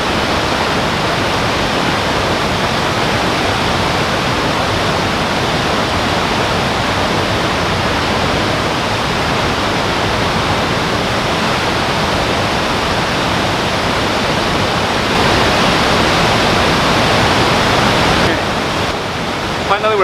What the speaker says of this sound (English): The not so well-known waterfalls.